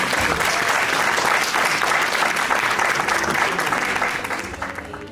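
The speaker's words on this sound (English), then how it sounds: "it is okay to just start clapping and celebrating." A crowd at a graduation celebration claps and cheers in a loud, unbroken roar of applause that holds steady and then eases off slightly near the end.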